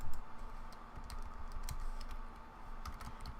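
Steady, quiet tapping of keys on a computer keyboard at close range, with irregular clicks in bursts and no voices.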